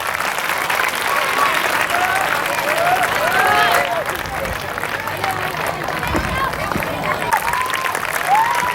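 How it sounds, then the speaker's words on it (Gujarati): Children clapping at a school prize-giving, a dense crowd applause sustained throughout with cheering voices and babble mixed in. "બાળકો તાળી પાડો."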